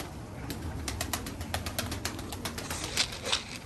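Young pigeons cooing in a loft, soft repeated low calls with faint rhythmic clicks and rustling, fairly close and quiet.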